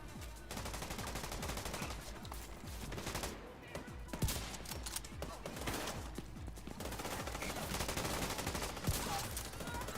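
Sniper rifle gunfire in the shooter game The Division 2, sharp repeated shots over a busy, dense bed of combat noise and other weapons firing, fairly continuous throughout.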